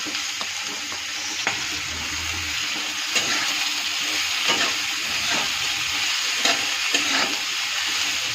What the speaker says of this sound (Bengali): বাঁধাকপিটা দিয়ে ভালো করে নেড়েছি